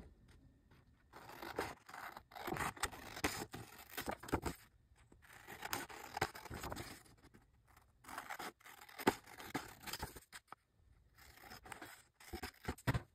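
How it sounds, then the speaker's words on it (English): A picture is trimmed with scissors in close, quiet, repeated snipping and rasping cuts over several seconds, with brief pauses between strokes. "I'm just gonna trim this."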